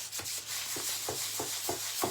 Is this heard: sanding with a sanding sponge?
yes